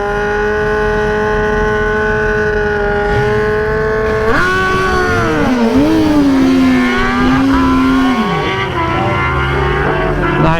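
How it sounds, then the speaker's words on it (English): Close, loud high-revving engine of a 2021 Kawasaki ZX-10R doing a short burnout at a track, a sustained steady drone that abruptly jumps and wavers in pitch before settling lower. "Nice little short burnout with this thing."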